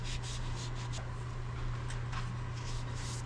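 A cloth rubs a linseed oil and beeswax finish onto a freshly turned wooden piece, soft repeated wiping strokes close by over a constant low background hum.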